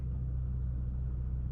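A car drives along a quiet neighbourhood road in West Galt, Cambridge, Ontario, giving a steady, low, close rumble that holds evenly for a moment.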